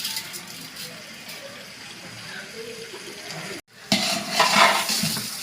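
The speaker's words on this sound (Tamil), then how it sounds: "உப்பு தேவையான அளவு சேர்த்துக்கலாம்" Chicken with masala and salt is stirred in a pot, a moist scraping and sizzling that briefly cuts out, then returns louder with wet, bubbling stirring sounds close by.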